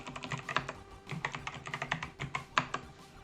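Quick clattering keystrokes on a computer keyboard as a command is typed into a FreeBSD lab machine, an irregular run of soft close clicks.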